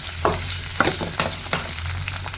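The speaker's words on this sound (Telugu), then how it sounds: "చూసారు కదా పచ్చిమిర్చి వేగాయి" Green chillies frying in a pan over medium flame: a continuous close sizzle and crackle, with a few spatula strokes scraping through it at irregular intervals.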